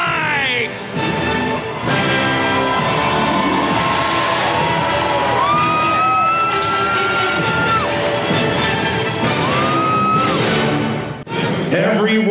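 A large stadium crowd at a Washington Nationals World Series championship celebration roars and cheers continuously, loud and dense, with shouts, whoops and an announcer's amplified voice over it.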